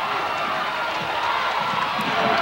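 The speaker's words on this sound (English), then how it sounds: "Here come the Delphos crowd." Crowd of Delphos fans in a high-school basketball gym in 1988-89, making a steady, loud, unbroken roar of cheering with some voices mixed in.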